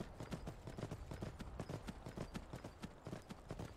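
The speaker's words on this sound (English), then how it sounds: "Oh, another horse." Horse hooves clip-clop steadily in the Skyrim video game, a quick, even run of close hoof strikes on the road at moderate loudness, with no talk.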